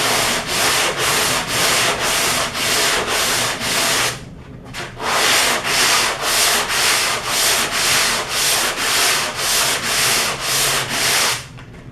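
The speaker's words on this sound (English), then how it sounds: "when you're sanding, you have to work your wrist and you have to work the part together" Close, loud hand sanding of body filler on a car panel, rasping in steady crisscross strokes about two per second, with one brief pause before the rhythmic scratching carries on.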